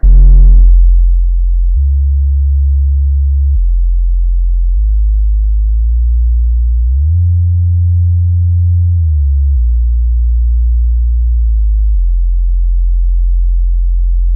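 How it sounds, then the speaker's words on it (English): A subwoofer sound-check test tone plays as deep, loud, sustained low sine tones that step between pitches in long held blocks, with a brief glide in the middle and no voices. "Check subwoofer."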